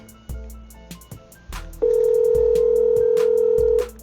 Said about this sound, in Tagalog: Kung nyo papansin, nagre-ring po yan.